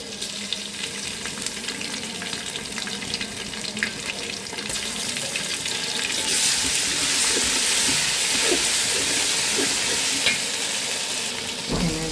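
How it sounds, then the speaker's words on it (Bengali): Onion frying in oil with ginger-garlic paste, a continuous hissing sizzle that swells louder and brighter partway through, with scattered stirring clinks, close up and without talk. "আমার পেঁয়াজটা ভাজা হয়ে গেছে তারপরে আমি দিয়ে দিব আদা রসুন বাটা"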